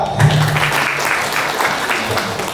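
Audience applause at an anniversary celebration in Indonesia, a steady wash of clapping that holds at an even level for the whole stretch, with faint voices mixed in.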